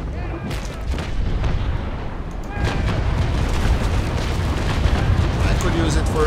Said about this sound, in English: could use it for another broadside